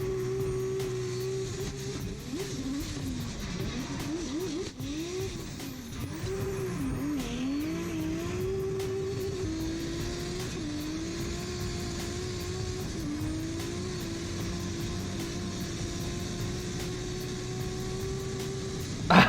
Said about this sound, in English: just some raw drifting